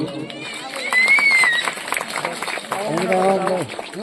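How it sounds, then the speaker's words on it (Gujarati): An audience claps to welcome guests at a groundbreaking ceremony for a cow shelter in Gir Ambalgadh, a dense ripple of hand claps running throughout beneath someone speaking over a loudspeaker. "આપણે સૌ આ સ્વાગતને તાળીઓથી વધાવશું."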